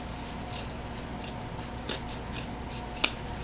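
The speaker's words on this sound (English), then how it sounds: "We're just going to cut off the tips." Scissors snip off the tips of a sewn vinyl leather tote bag, a quiet rasping cut with one sharp click close by in an otherwise hushed room.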